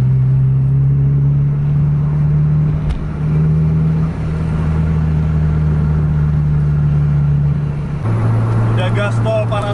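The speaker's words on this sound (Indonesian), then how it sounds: "Ada 4 Scania yang lagi kejar-kejaran sekarang." Several Scania buses, including a Scania 1626, race each other closely on a highway, their engines giving a loud, steady droning rumble that shifts pitch near the end, with a voice talking over it.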